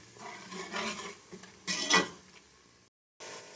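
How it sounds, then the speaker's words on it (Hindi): Spices for a matar chicken curry stir-fried in a pan, with a steady low sizzle and a few close scraping strokes of a spoon, broken by a short silent gap before the sizzle resumes. "सारे मसालों को हम अच्छी तरह भूनेंगे।"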